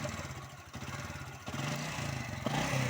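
A motorcycle with a newly rebuilt engine runs steadily, rumbling low and close and growing slightly louder toward the end.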